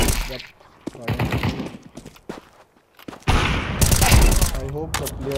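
Rapid bursts of close gunfire from a Counter-Strike 2 match on the Dust II map, with sharp volleys and brief pauses between shots.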